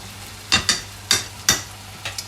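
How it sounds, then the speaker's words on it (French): Scampi mixture being mashed and stirred in a pan, with several short, close scraping strokes in quick succession over a faint background sizzle. "On écrase bien, on mélange."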